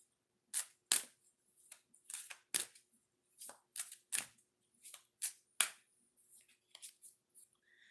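Tarot cards being handled during a live reading, a sparse run of sharp, close clicks and flicks spaced irregularly across quiet gaps.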